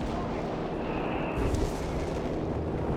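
A mortar barrage in Company of Heroes 3, with dense, thudding blasts and rumbling impacts crowding together in a loud, continuous wash of battle noise, and a commentator's voice faintly under it.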